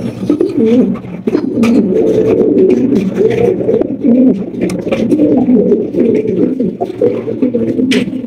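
A pair of blue white-bar pigeons coos steadily and close by, the soft throaty rolling calls overlapping almost without pause over faint background noise.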